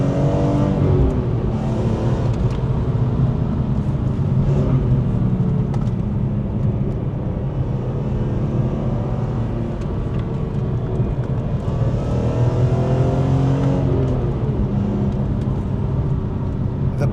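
A BMW E46 M3 engine runs continuously at high revs, loud and close, with a steady droning tone that rises and falls slightly through the passage and has no talking over it.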